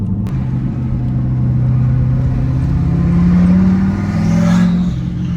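A turbocharged car engine drones loudly inside the cabin while driving on a freshly installed Mantic twin-disc clutch, a steady low rumble that swells slightly as it pulls, with no talking.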